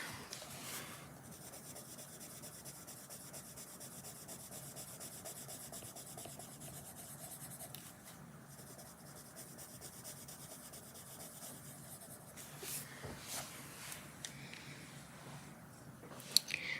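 Coloured pencils gliding smoothly over paper, a faint continuous soft rubbing and scratching texture with brief pauses, close and quiet with no talking.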